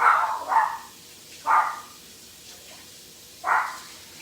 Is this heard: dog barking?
yes